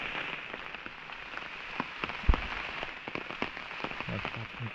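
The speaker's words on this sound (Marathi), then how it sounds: "आणि पाऊस पण आहे, दिवसभर लागतोय असं." Steady monsoon rain falls in the Konkan countryside, a dense, even patter on surfaces with scattered louder drops and one sharp nearby splat, continuous and without voices.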